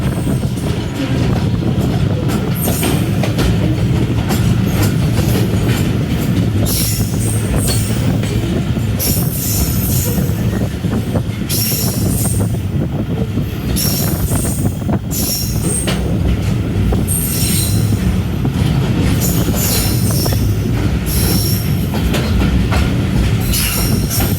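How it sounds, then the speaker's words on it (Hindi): A train, led by locomotive 7146 on the Sir Syed Express, passes through Adam railway station with a loud, continuous rumble, rhythmic clickety-clack of wheels over rail joints and repeated high wheel squeals throughout. "तो आदम रेलवे स्टेशन से ट्रेन गुजर रही है"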